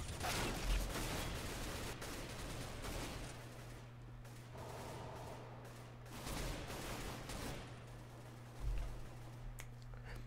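Gunfire in CS:GO, with several bursts of shots crackling at low level and a muffled thump near the end, heard against a steady low game hum.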